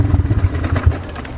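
A cold Honda XR200R dirt bike engine sputters and revs unevenly just after a cold start, with choppy low throbbing pulses that stay close and loud.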